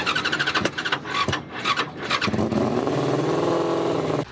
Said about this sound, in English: the number 36 car was ready to start its engine